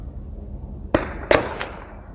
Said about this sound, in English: The gunfire will be from the cops, not the suspect.